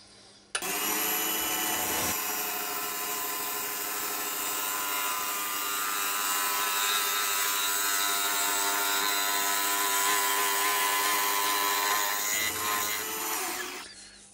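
A wood lathe spins up and skims a wooden pork pie pot, a loud steady whine with a tool scraping across the spinning wood, running for over ten seconds before winding down.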